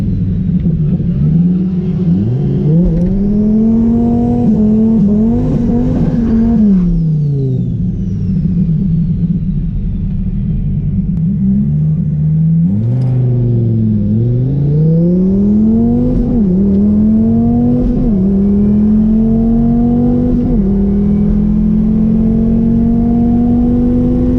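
A twin turbo Dodge Viper and a C8 Corvette drag race, engines roaring loud and close as revs climb through several gear shifts, dipping and surging again, then a sustained high drone as the cars run out.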